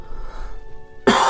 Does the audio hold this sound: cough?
yes